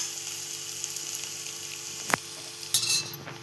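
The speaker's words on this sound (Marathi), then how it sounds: "इथे आता आपण कांदा परतवून घेतलेला" Onion frying in a pan gives a steady close sizzle, with two brief sharp scrapes of a spoon stirring near the end.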